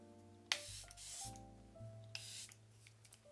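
Several short hissing bursts of Charlotte Tilbury setting spray sprayed onto a face, close and fairly soft, separated by brief pauses and quiet handling noises.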